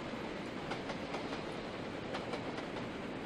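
An LMS Coronation Class steam locomotive in the Trainz: A New Era simulator rolls along the rails with a steady rumble and a regular clickety-clack of wheels over rail joints, heard alone.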